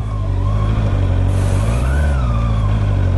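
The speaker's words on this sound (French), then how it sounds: "On démarre la moto, on passe la première, j'ai pas touché l'embrayage" Honda CB 650 R motorcycle with electronic E-Clutch pulling away in first gear off gravel, a loud, steady engine drone close by with a slight rise in pitch as it moves off.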